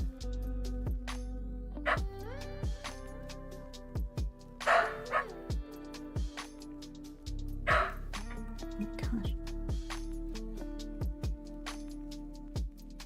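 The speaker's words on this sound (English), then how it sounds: "I'm sorry for my dog going nuts in the back." A pet dog barks and yips repeatedly from the back of a house, sharp loud barks coming in irregular bursts with some whimpering yelps between, close by with no speech over it.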